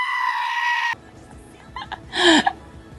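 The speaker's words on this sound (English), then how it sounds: "a goat screaming" A goat gives a short, loud scream near the end, preceded by a steady tonal music-like passage and a quieter stretch of background noise.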